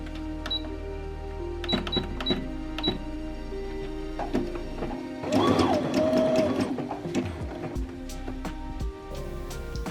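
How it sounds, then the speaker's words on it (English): A sewing machine zigzag-stitches elastic down, with short bursts of rapid mechanical clatter and clicks, then a longer louder run of stitching mid-way, close and without talk. "Using a safety pin, you'll pull the elastic through and sew down one edge using a zigzag stitch."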